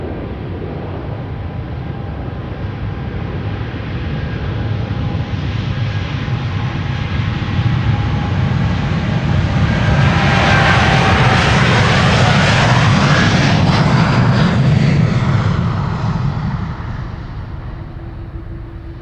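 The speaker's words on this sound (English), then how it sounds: "This is KLM Flight 661 to Houston in Texas." A KLM airliner, flight 661 to Houston, takes off from Amsterdam Schiphol, its jet engines swelling from a steady roar to a loud, rising peak, then fading slightly as the aircraft climbs away.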